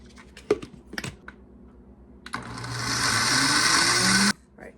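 A countertop blender whirs loudly and steadily for about two seconds, mixing protein powder, yogurt and cinnamon, after a few sharp clicks and taps as it is set up.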